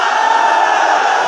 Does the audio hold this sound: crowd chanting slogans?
yes